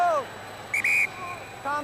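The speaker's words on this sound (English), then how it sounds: "the whistle blows" A referee's whistle blows at a Munster versus Ulster rugby match, one short sharp blast in the middle of crowd noise, with a commentator's voice before and after it.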